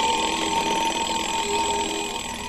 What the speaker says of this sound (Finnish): Tältä herätyskello kuulostaa.